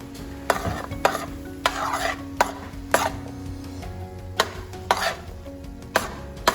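Rinsed chickpeas tipped into a pot, then stirred with repeated sharp clacks and scrapes of a utensil against the pot at a roughly regular pace, over a soft background sizzle.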